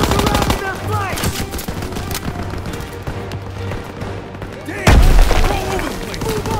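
Machine gun fire in Call of Duty WWII, dense rapid bursts mixed with booms from a close firefight, with voices calling out over the shooting.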